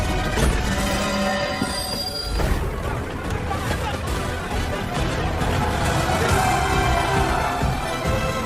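Armored train rolling through a harsh winter in the video game Last Train Home, with loud, steady rumbling wheels and screeching metal along the rails, a continuous mechanical din running the full length amid game music.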